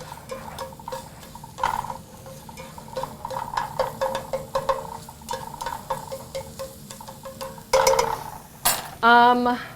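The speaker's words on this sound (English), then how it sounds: "you just let this saute just for a few minutes till the mushroom stems start to brown" Mushroom stems sautéing in a pan with a soft, steady sizzle, broken by frequent clinks and scrapes of a utensil stirring against the cookware, close and moderately loud, with one brighter burst near the end.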